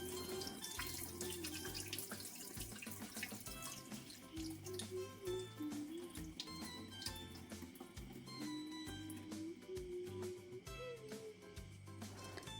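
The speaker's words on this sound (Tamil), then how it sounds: "நான் வந்து இந்த துவரம்பருப்பு ஒரு மூணு நாலு தடவை மூணு தடவையாவது மினிமம் வாஷ் பண்ணியிருப்பேன்" Toor dal being rinsed in water at a kitchen sink, with a steady running tap, splashing and sloshing throughout, close and fairly loud, with no talking.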